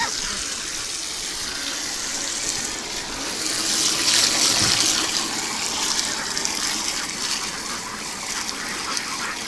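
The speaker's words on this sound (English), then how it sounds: "You heard me washing the tub out." Water rushes and splashes steadily into a duck tub while it is washed out, swelling louder in the middle as if poured or sprayed, with a broad hissing wash throughout.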